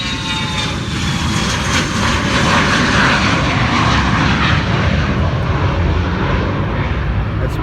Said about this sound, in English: He's taking off going uphill, keep in mind. Big, powerful jet.